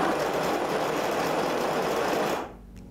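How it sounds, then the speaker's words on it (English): The built-in grinder of a Melitta EPOS automatic pour-over brewer grinds coffee beans with a loud, steady whirring roar that cuts off sharply near the end. "go ahead and tap that grind button and it begins grinding"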